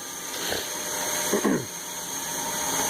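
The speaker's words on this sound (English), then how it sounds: "gives me a little better access for one of the back bolts with my air ratchet and my long socket" Air ratchet with a long socket backing out a rear bolt during water pump replacement on a 2005 Buick LaCrosse 3.6L V6, two short whirring bursts over a steady shop hum, the second burst longer and louder.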